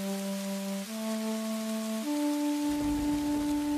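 Steady rain falls as a broad, even hiss throughout, beneath sustained musical tones that step down in pitch, with no voices.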